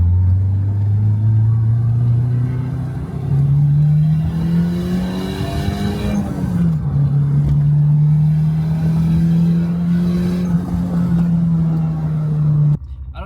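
Turbocharged Honda Integra pulling hard in second gear, engine note rising steadily then stumbling and bogging down near 4,000 rpm, droning on unevenly before cutting off; loud and close, from inside the car.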